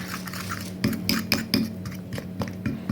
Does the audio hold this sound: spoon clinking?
yes